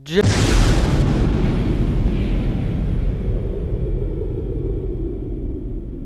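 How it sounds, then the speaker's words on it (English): A lab explodes with a loud, sudden boom close by, followed by a long rumbling roar that slowly fades. "He was cut off by the explosion of the lab."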